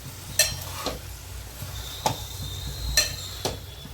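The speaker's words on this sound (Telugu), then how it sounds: "చూసారు కదా, వంకాయలు బ్రౌన్ కలర్లో మారుతున్నాయి అంటే అవి వేగుతున్నట్టు అర్థం." Stuffed brinjals frying in a pan as they are stirred, a low bubbling sizzle punctuated by a few distinct scrapes and knocks of a spatula against the pan.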